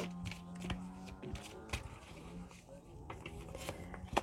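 Fortune-telling cards are handled, shuffled and flipped over on a table, giving soft, irregular papery slaps and taps up close. Faint background sounds sit underneath.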